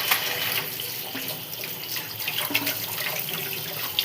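Water pouring from a tap into a sink basin, a steady splashing gush with bright, bubbly spatter, close and continuous for a few seconds.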